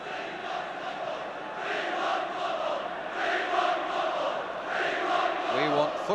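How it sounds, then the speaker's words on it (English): A large football crowd at an FA Cup final between Arsenal and Manchester United roars and shouts in distant waves of massed voices, rising and falling throughout. "the crowd are shouting"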